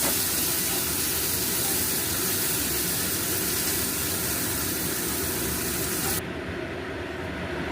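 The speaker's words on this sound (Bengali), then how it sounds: "এবার আমি আলুগুলো আর বিনসগুলো সব একসঙ্গে দিয়ে ভেজে" Potatoes and beans frying together in a pan give a loud, constant sizzling hiss that drops off sharply near the end.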